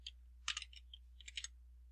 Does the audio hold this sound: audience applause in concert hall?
no